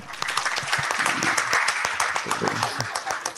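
Applause at a press conference for a surfing competition in Lombok, uneven clapping from a modest crowd with individual claps audible and some voices mixed in.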